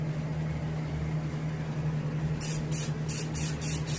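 Spray paint misted lightly onto a striped bass fish mount in short hissing bursts, about six quick pulses near the end, over a steady low hum of background machinery, no talking.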